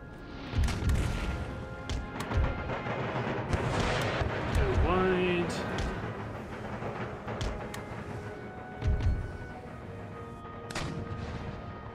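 Artillery guns firing in Empire: Total War, several deep booms and crackling blasts spread across the stretch, with game battle noise and someone talking underneath.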